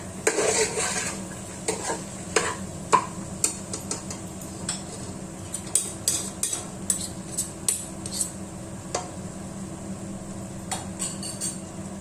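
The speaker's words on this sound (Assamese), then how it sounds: "লো ফ্লেমত 2 মিনিট সময় বুটৰ দাইলখিনি ভাজি ল'লোঁ।" Chana dal fries in a pan over a low flame, giving a soft continuous sizzle under repeated light metallic scrapes and taps of a spoon stirring, close and fairly quiet, with no talk.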